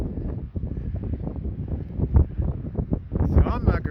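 Strong gusty wind buffeting the microphone during a bike ride down a beach boardwalk, a loud steady rumble with a voice talking over it.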